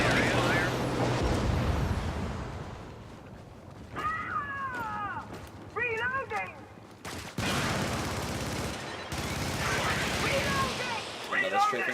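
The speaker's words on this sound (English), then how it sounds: "Do the strafing run behind us." Gunfire from a video game strafing run crackles through a dense, noisy battle mix, with bursts and blasts spread across the clip. Voices and radio-like chatter sit on top of the action.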